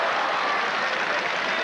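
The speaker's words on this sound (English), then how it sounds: "They're hearty cheers for both." A tennis stadium crowd applauds and cheers in a dense, steady wash of clapping and voices, heard briefly and evenly without a break.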